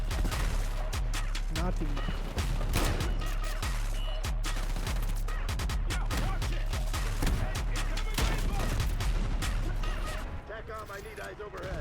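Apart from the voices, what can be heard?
Essex Model 07 rifle gunfire in the video game Black Ops 6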